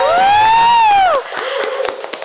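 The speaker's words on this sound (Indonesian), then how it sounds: "Kasih tepuk tangannya dong." Studio crew clap for a podcast guest, a short burst of scattered claps and taps following a loud rising-and-falling tone, fairly close and brief.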